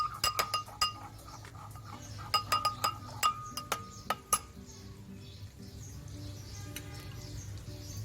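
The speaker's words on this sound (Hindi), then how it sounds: "और साथ में ये दही डाल दीजिए और इन तमाम को अच्छी तरह से मिक्स कर लीजिए।" Spoon clinking against a bowl while yogurt is stirred into spices for a tinda and matar curry, a quick run of bright metallic taps at the start, then quieter scraping over a steady low background hum.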